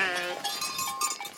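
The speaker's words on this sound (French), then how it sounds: "Les brebis se pressent devant le portail." Flock of ewes crowding at a gate in the Niolu mountains before heading out to pasture, bleating in overlapping, wavering calls that carry steadily from close by without pause.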